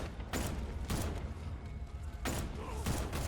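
Gunshots in Batman: Arkham Knight, a few spaced broadband blasts over a steady rumbling game backdrop, fairly quiet overall.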